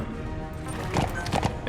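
D-Horse hoofbeats in Metal Gear Solid V: The Phantom Pain, a couple of soft clip-clop strikes near the end over a steady low game ambience.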